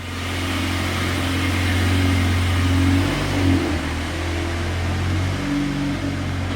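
A 2021 VW Golf R Mk8 engine droning steadily on a dyno, a loud sustained mechanical hum with a slight rise in pitch midway, then holding level, with no talk.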